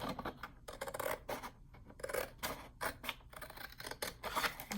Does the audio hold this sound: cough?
no